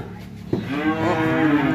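A cow lows loudly and close by at a cattle farm, a single sustained, rising moo that carries to the end, with faint farm noise behind it.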